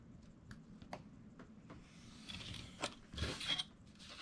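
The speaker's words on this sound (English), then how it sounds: "So I'm just going to trim off a little bit." Paper being trimmed for a handmade paper craft book, with scattered quiet clicks and creaks followed by louder scraping and cutting strokes near the end.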